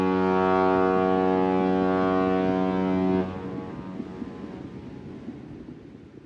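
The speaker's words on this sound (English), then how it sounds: "and a boat blowing its horn." A boat sounds its horn in a loud, steady, deep blast lasting about three seconds, then cuts off, leaving a rough, rumbling engine and water noise behind.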